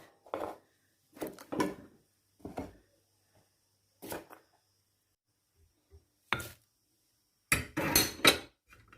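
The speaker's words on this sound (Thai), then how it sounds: "มะเขือนี่ หั่นครึ่งเลย" A knife thuds and slices through an eggplant on a cutting board, cutting it in half, several separate cuts with short pauses between them, close and fairly quiet.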